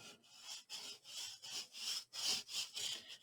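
Paper gets burnished down onto a Graphic 45 folio with quick, faint rubbing strokes, about eight rhythmic swishes heard close up and alone.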